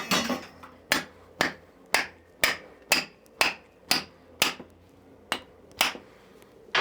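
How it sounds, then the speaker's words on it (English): Compressing sand inside copper pipe before bending: about a dozen sharp, evenly spaced taps, roughly two per second, close and fairly loud, with no talk. "That's compressing the sand."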